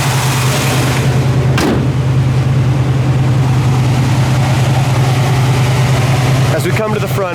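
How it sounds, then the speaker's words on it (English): A 1969 Chevrolet Nova big-block engine without headers idles steadily with a deep, even rumble throughout, fairly close and loud, with a couple of brief noises near the end. "And the engine sounds great."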